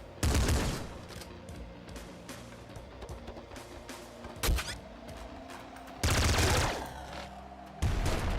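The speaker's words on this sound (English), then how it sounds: "We have a Gatling laser and a Gatling slugger." Gatling laser and Gatling slugger fire in Nuclear Throne, in sustained rattling bursts with loud heavy blasts near the start and at the end, over a busy game backdrop; one brief spoken word.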